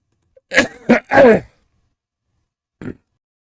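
A close, sharp burst of coughing, three quick rough hacks in a row, then a pause and one short, quieter cough.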